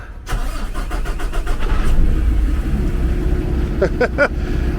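A Peterbilt 389 truck's diesel engine cranks with a rapid starter chatter, then catches and settles into a loud, steady rumbling idle, close by with no talking.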